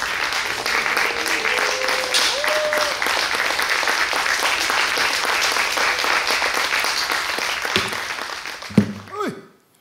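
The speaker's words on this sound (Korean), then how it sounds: "두 분을 박수로 좀 맞이하겠습니다" Audience applause welcoming a pansori singer and her drummer onto the stage, a dense, steady clapping that holds for about eight seconds before thinning out, with a few stray voices rising near the end.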